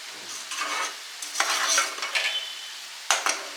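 A spoon stirs and scrapes through bubbling sugar syrup in a pan while scum is skimmed off, giving a few close, soft sizzling swishes in short bursts.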